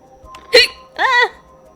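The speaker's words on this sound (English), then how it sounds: "I hate hiccups." Two sharp, close hiccups from one person, about half a second apart, each a brief voiced gulp with nothing else but quiet room tone around them.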